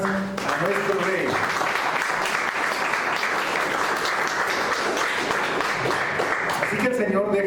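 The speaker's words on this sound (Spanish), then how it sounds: "Den una ofrenda de palmas a nuestro Rey" A church congregation claps steadily in praise during a Spanish-language service, a dense, continuous wash of applause lasting several seconds, with a voice audible at the start and end.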